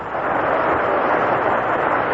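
A big crowd at the 1935 All-Star Game in Cleveland gives pitcher Mel Harder, a right-hander, a hand as he comes out to the mound: a dense, steady roar of applause filling the ballpark with no break.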